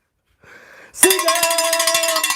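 A loud bell alert rings out abruptly with a rapid, continuous metallic ringing, preceded by a faint tonal sound, sustained and close.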